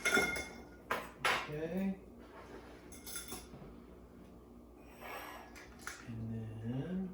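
A cocktail stirred in a glass with a bar spoon, light metallic clinks and swirls of ice close by, with brief spoken words and a vocal noise over it.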